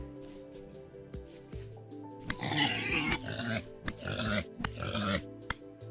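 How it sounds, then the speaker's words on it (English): A pig in the Vintage Story video game grunts and squeals in a few short, rough bursts as it is killed, over quiet game ambience. "Quick and easy pig kill."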